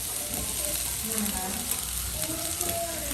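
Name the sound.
onions and mushrooms sizzling while frying in a pan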